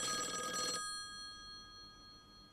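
A phone rings in a narrative adventure game, a single bright ringing burst of under a second, then a quiet steady tone lingers and a brief click closes it.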